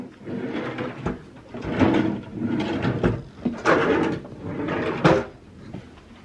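Small drawers in a Carnival Breeze cruise ship cabin being slid open and shut repeatedly, several close, distinct wooden scrapes and knocks in an uneven rhythm, with no talking.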